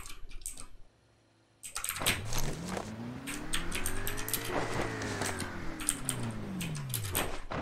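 A car engine in the Rules of Survival video game revs up after a short gap, its pitch sweeping up and down loudly over clicking keyboard taps, with no talk.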